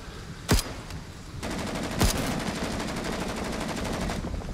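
Sustained machine gun fire from the Vietnam War shooter Rising Storm 2: Vietnam, a steady rapid rattle running for several seconds, with two sharper, louder single shots cracking near the start.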